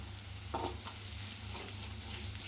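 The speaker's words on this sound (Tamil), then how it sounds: "இந்த எண்ணெயில் இந்த மசாலா வெங்காயம் பூண்டெல்லாம் கொஞ்சம் ஒரு நிமிஷம் வதங்கி வந்ததுன்னா ரொம்ப நல்லாயிருக்கும்" Masala, onion and garlic sauté in oil for an okra tamarind kuzhambu, giving a soft, steady sizzle with a few brief stirring scrapes and a clink, heard close and fairly quiet.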